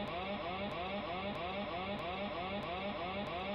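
Autopilot disconnect alarm siren from the HBM Nuclear Tech Minecraft mod, a loud continuous warbling electronic tone that repeats in rapid even cycles, with regular faint clicks about every two-thirds of a second.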